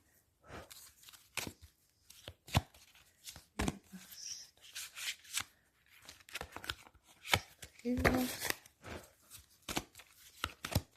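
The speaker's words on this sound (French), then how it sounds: "Alors, couper un peu de jeu." A deck of tarot cards being cut and shuffled close up: quick irregular riffles, slaps and flicks of cards in bursts, with a longer riffle toward the end and faint speech between.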